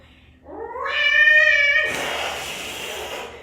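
A kitten gives one drawn-out, rising meow with clear harmonics, loud and close, followed by a burst of broadband noise from handling or movement.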